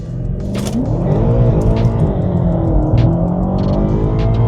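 A BMW M5 F90 Competition pulls away with a loud, close engine roar that rises in pitch as it accelerates, with brief sharp bursts over the steady drone.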